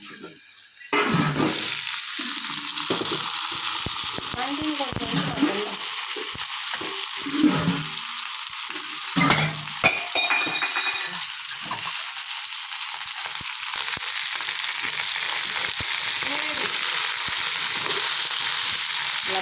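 Chunks of elephant foot yam fry in hot oil in a pan for a curry, a steady loud sizzle with crackling bursts and the occasional scrape or stir.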